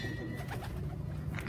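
Pigeons coo on a rooftop loft, a soft, throaty cooing close by against low background noise.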